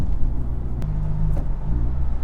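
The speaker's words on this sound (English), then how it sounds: "So this car, in 5th gear, 38 miles an hour, both resonators deleted, and the Valvetronic muffler, even at these lower RPMs, you don't get any drone in the cabin." Honda Civic Type R fitted with a Valvetronic Designs universal muffler and both resonators deleted, cruising in 5th gear at about 38 mph. A steady, low exhaust hum with mild engine drone carries throughout, fairly loud and without talk.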